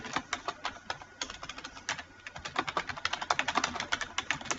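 Rapid keystrokes on a computer keyboard while entering a chart title in a spreadsheet, a dense run of close, crisp clicks with uneven rhythm that grows busier and louder toward the end.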